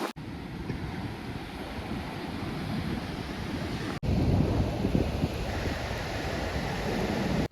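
Strong wind blows steadily by the Uhl river reservoir in Barot valley, a continuous loud roar and buffeting with a brief break midway, no voices.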